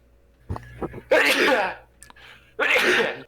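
Two sharp, breathy sneezes close by, the second following a brief pause, with a few faint sounds before them, over Minecraft gameplay.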